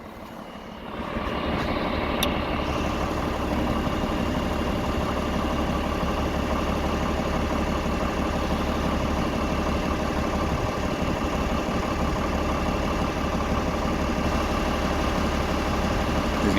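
An International Harvester 1086 turbo diesel tractor idles with its PTO engaged, a loud, steady low diesel rumble with mechanical clatter running evenly throughout after a quick rise at the start.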